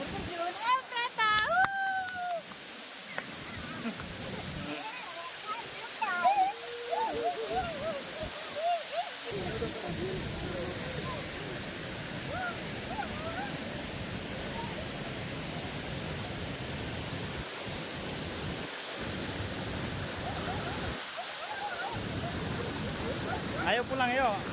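Steady rushing roar of the Efrata waterfall, a constant broad wash of falling water close by, with people talking intermittently over it.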